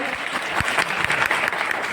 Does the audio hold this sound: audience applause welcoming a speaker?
yes